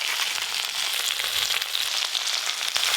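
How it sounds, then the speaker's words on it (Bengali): Potatoes and okra frying with ginger-cumin and chilli paste and salt in a village kitchen pan, a bright continuous sizzle with crackling pops, close and steady. "লবণ, সব মশলা দিয়ে একটু ভালো করে কষে নেবো"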